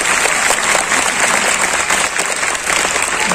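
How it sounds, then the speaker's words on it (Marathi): Women in an audience at a public talk in Latur applaud loudly and continuously, a dense, sustained wash of clapping. "फक्त महिलांनी, जोरदार महिलांनी टाळ्या वाजवा"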